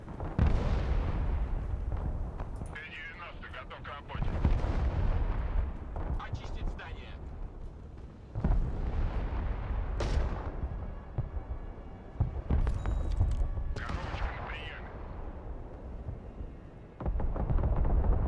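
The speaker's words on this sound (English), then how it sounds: "Enemy team likes their artillery." Enemy artillery shells land in the Broken Arrow war game, a series of heavy booming blasts arriving every few seconds with sharp cracks and rumbling tails, some near and loud, mixed with faint battlefield effects.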